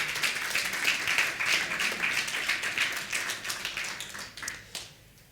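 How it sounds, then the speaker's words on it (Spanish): A church congregation claps during a sermon, a moderately distant rush of applause that rises and then gradually thins and fades out toward the end. "¿Cuántos le podremos dar un aplauso fuerte al Señor por esta final de profecía?"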